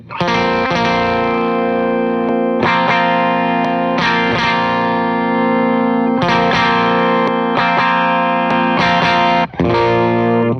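Electric guitar played through a Preston Pedals Mason Supro-style preamp boost, loud gritty chords ringing out in several strummed phrases with brief gaps between them, alone and without voices.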